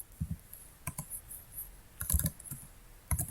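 Someone typing an HTML list of programming languages on a computer keyboard: quick clusters of close, crisp key clicks in irregular bursts with short pauses, no talking.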